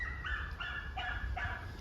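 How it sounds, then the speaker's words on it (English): Several dogs bark and yelp at a distance in repeated bursts, with a low rumble underneath. "dogs flipping out in the background"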